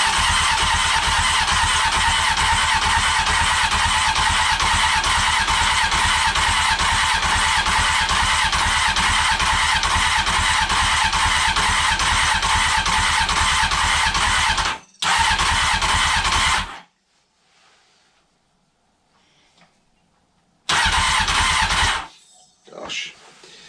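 A neglected Honda CBR900 Fireblade motorcycle with leaking carburettors cranks for about fifteen seconds in a loud, continuous whirring churn, then falls silent, followed by another short burst of cranking.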